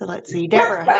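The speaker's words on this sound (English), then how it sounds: "if you hear the dogs barking" Dogs bark and yip indoors in short bursts, mixed in with someone talking close by.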